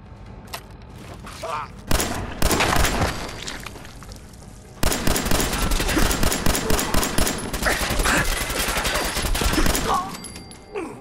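Repeated 9mm pistol gunfire in the video game Fallout 4, loud close shots in rapid bursts with overlapping reports and booms, continuing through most of the stretch with brief pauses, a voice talking faintly underneath.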